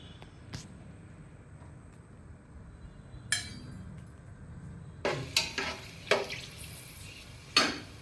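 Whole spices drop into hot oil in a home kitchen while cooking a Kuwaiti-style chicken machboos, a quiet steady sizzle broken by several sharp clinks and scrapes of a utensil against the pan, with no talk.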